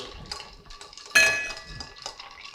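Ice and spoon clink inside a cocktail glass for a flask cocktail, a soft rattle of light clinks rising to one sharp bright clink near the middle, then fading back into quieter stirring taps.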